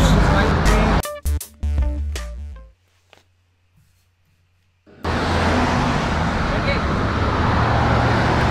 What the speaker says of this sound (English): we're waiting for the traffic to get a gap in it